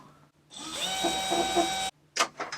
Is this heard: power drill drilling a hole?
yes